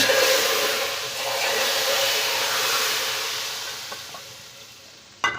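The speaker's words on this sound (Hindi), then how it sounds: "अब हम तड़का लगाते हैं" Steady broadband sizzling of spices frying in hot oil for a tadka on mixed moong and masoor dal, loud and close, slowly fading, with a sharp clatter right at the end.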